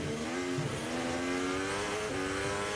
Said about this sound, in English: The torque delivery from that Ferrari engine coming out of the corner was wonderful to see